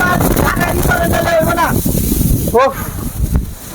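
A Tufan kitchen range hood fan roars loudly with a constant broad whooshing rush, while someone talks over it throughout.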